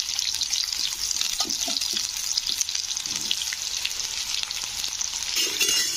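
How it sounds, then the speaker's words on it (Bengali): Three potatoes fry in oil in a pan, producing a busy, crackling sizzle with small pops and bubbling that continues steadily up close, without speech. "তো আলুগুলোকে একটু লাল লাল করে ভেজে নিচ্ছি"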